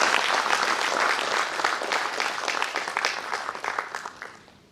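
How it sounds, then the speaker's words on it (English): Loud audience applause at an Antarctica Day event for members of the third Antarctic expedition, dense clapping that holds strong, then thins into scattered claps and fades out. "I think you need to give them a big round of applause"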